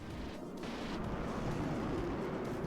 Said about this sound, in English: Su-25 main cannon doing the damage there.